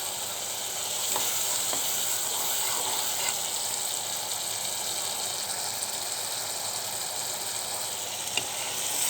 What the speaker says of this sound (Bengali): সেই জন্য ভালো করে কষিয়ে নিচ্ছি।